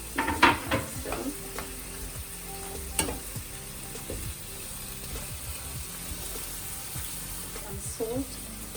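Two small chilies fry and sizzle in a pan for Sri Lankan seafood pastry filling, a soft steady sizzle broken by a few stirring clinks of the utensil, with a voice talking over it.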